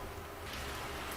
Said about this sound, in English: it's raining outside